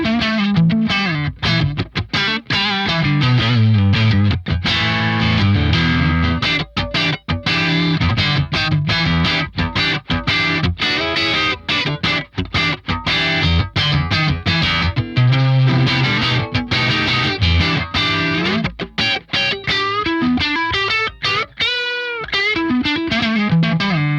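Electric guitar, a VOLA OZ V3 MC in Fiesta Red played on the neck pickup through effects, heavy distorted riffs with chords and single notes, loud and close, played alone without talk.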